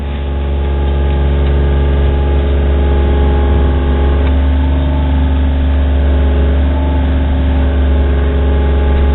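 A Jeep drives on a test run just after a U-joint replacement, its engine a steady loud drone with road rumble that holds throughout, with no one speaking.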